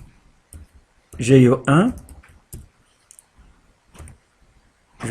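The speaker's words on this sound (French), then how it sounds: "Je tape F5 et j'écris somme" Typing on a computer keyboard, scattered light clicks and taps close by, with a short spoken word in the middle.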